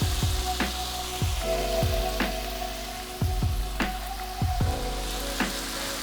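Shrimp frying in a pan over the highest heat, a steady close sizzle with repeated sharp taps and scrapes from stirring throughout, no talking.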